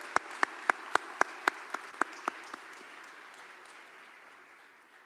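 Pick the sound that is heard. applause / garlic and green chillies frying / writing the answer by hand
applause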